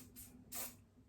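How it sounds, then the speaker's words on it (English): Hairspray spritzed onto hair in two short hissing bursts, the second longer and louder, close up and otherwise quiet. "you want to get your hairspray and just spritz it."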